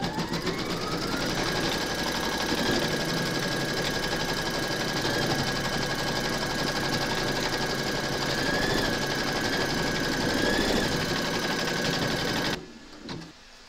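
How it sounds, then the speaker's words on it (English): Embroidery machine stitching a round on an in-the-hoop scarecrow applique, securing batting and hair, a loud continuous rapid needle chatter with a steady motor whine that runs almost unbroken, then stops abruptly near the end. "We're now going to pop our hoop into our machine and stitch round number 3"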